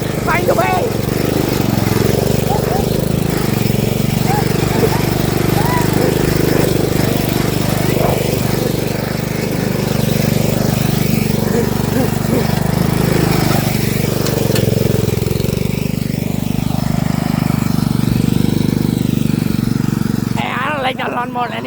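A riding lawn mower engine runs loud and steady from start to finish, a constant droning rumble that never stops or changes pace.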